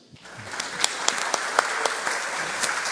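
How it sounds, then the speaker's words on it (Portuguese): A church congregation applauds, a steady close patter of many hands with a few sharper individual claps standing out, continuing for nearly three seconds without talk. "Vamos receber o nosso irmão aplaudindo ao Senhor"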